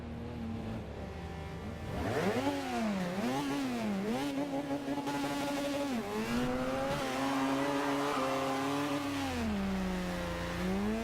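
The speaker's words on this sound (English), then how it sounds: "That's a rotary engine." A Mazda RX-7 FD rotary engine in Forza Horizon 2 revs hard, its buzzing tone climbing and dropping through several sharp throttle blips before holding a high, sustained wail near the limiter.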